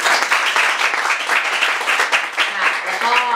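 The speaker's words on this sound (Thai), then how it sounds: "ขอเสียงปรบมือด้วยค่ะ" An audience at a panel discussion on changing the city claps for the speakers, a loud, dense patter of hands filling the moment, with a voice briefly audible near the end.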